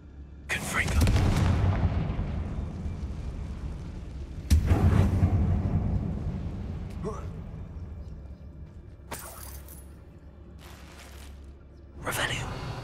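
The Confringo blasting spell explodes in the Hogwarts Legacy video game inside a closed mine, with two heavy booming blasts followed by long rumbling decays and a later, sharper burst, all loud and close.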